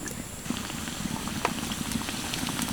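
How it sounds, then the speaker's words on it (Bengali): Chana dal koftas fry in hot oil in a kadai, a continuous bubbling sizzle dotted with small crackling pops, close and steady. "তেলের মধ্যে কপ্তাগুলো দিয়ে দিচ্ছি"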